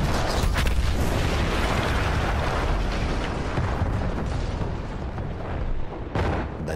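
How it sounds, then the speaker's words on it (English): A big explosion in a war video game, a dense roaring blast that rumbles loud and continuous through the whole stretch with no talk, swelling again near the end. "That explosion was one of the sweetest sights of the war for me."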